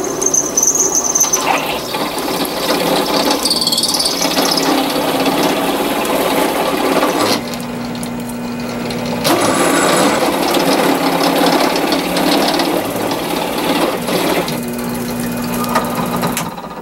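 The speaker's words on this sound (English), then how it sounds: "Pretty small drill press here, trying to cut this thick metal." A small drill press grinds and squeals steadily through thick metal for a J-pole antenna build, loud and close, with gearlike ratcheting, a few pauses in load, and no talking.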